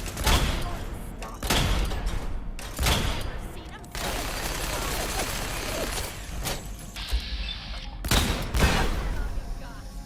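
A shredder minigun firing in Fallout 4, heard as repeated loud bursts of rapid gunfire separated by short pauses, with mechanical spin and rattle between bursts, close and dominant.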